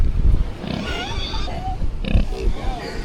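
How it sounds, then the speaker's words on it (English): Pigs grunting on Pig Beach in the Exumas, Bahamas, a few short close grunts and snorts scattered through the moment while people talk excitedly nearby. "We hung out with a bunch of pigs"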